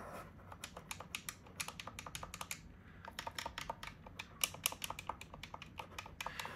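Buttons on a new Xbox gamepad being pressed over and over, quiet sharp clicks in quick irregular runs with a short gap in the middle, close by and with no talk.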